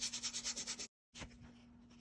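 Rhythmic back-and-forth scratching of 220-grit sandpaper, about eight quick strokes, then a pause and a softer continued rub.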